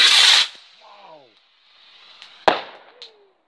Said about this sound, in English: That's a Chinese invention, isn't it? Fireworks.